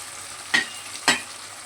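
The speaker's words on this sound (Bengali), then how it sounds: "বাকি পেঁয়াজ বাটাটা এখন ভাজার সময় দিয়ে দেবো" Onion paste frying in a pan for a wedding-style mutton curry, with two sharp scraping stirs about half a second apart over a quiet, steady sizzle, close by and with no talk.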